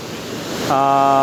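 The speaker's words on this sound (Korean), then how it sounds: "제가 폭포수 소리가 시끄러워서 좀 이동을 해가지고 촬영을 하도록 하겠습니다" Roaring waterfall at Montmorency Falls in Quebec, a loud dense broadband rush filling the whole moment, with a steady tonal whine rising over it partway through.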